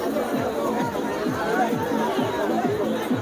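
Crowd at a busy boat swing ride at the Bogura industry and trade fair, a dense steady hubbub of chatter with rhythmic swooshing from the swinging boat, continuous and fairly loud throughout.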